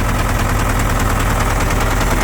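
A Case 580B backhoe's diesel engine runs with heavy blowby, a loud, steady close-up chugging and rough rattling drone that holds constant with no talk.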